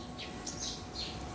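Sparrows in a front yard chirp in a quick series of short, bright calls, three or four distinct bursts over a steady quiet outdoor hiss, fairly close and alone without any talking.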